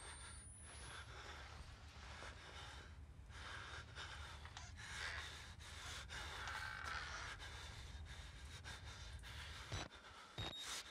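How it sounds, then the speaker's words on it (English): Heavy, rasping breaths from the player character in the Outlast horror game run steadily and close through the whole stretch, layered over dense ambient noise. "Wish I could hear without my guy freaking breathing like freaking Darth Vader"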